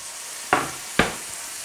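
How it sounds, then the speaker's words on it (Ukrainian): Champignon mushrooms sizzle with a steady, soft hiss in a hot pan, broken by two sharp stirring scrapes. "Зараз можна чітко почути специфічний звук смаження печериць"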